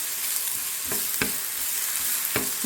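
Flattened rice and banana sautéing in ghee, a steady close sizzle with a few soft spatula scrapes and taps against the pan.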